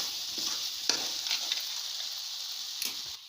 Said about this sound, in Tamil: நல்லா கிண்டி விட்டுக்குங்க அப்போதாங்க நல்லாயிருக்கும்